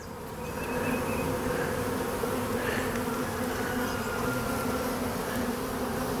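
Honeybees buzz steadily during a beehive inspection, a dense close-up drone that swells in over the first second and then holds continuous and fairly loud.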